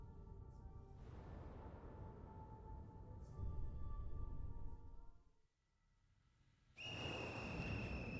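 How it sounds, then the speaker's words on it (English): A monstrous little raincoat-clad figure blows a whistle in Ghostwire: Tokyo, a sudden shrill steady tone cutting in over a low droning ambience after a brief dip to near silence. "As the monstrous little raincoat visitor blows his whistle"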